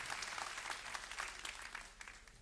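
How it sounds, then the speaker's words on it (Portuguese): Applause from a church congregation during a sermon at Cathedral International, a steady, dense clapping that fills the whole moment without spoken words. "Dê uma salva de palmas a Jesus."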